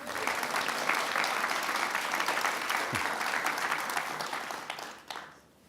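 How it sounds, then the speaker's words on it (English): Morning business audience at a Greenville Chamber of Commerce event applauds for a presenter, a sustained wash of many hands clapping that holds steady before tapering off near the end. "Let's give another round of applause to Melissa."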